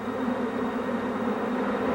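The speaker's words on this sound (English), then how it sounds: "a swarm of deadly African bees escaped from a genetic experiment in Brazil" A swarm of Africanized killer bees buzzing in a steady, dense drone that holds evenly at moderate loudness with no talking.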